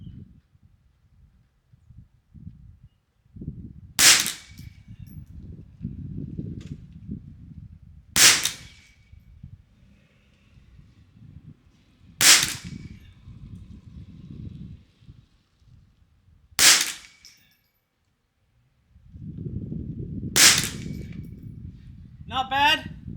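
Five sharp rifle shots from a Ruger 10/22, spaced several seconds apart at a steady pace, ring out loud and close at an outdoor range, with low rustling and handling noise plus quiet voices filling the gaps between them.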